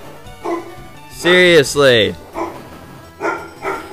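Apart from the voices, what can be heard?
dog barking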